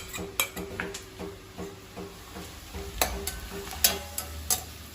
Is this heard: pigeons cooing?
no